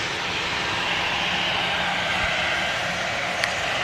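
An EasyJet airliner arriving from Prague on short final at Manchester Airport gives a steady, broad engine roar that holds evenly throughout, with no voices over it.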